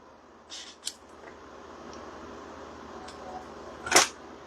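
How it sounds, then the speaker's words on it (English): Scissors trim paper at an angle for a papercraft card in a few short, crisp snips, close and fairly quiet against a still background. "we'll trim it on an angle"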